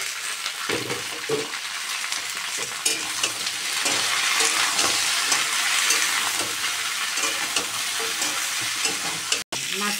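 Eggplant pieces fry in a pan with sliced green chillies, giving a dense continuous sizzle broken by repeated scraping and stirring strokes, close and loud throughout.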